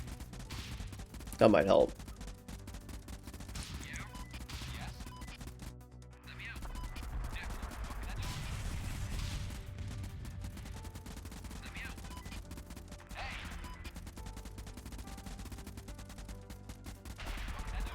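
Gunfire in the video game Convoy, with dense, continuous rattling volleys and bursts running through most of the stretch at moderate level, and people talking briefly over it.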